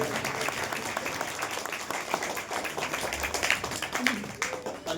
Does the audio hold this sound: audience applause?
yes